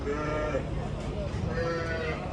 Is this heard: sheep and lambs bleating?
yes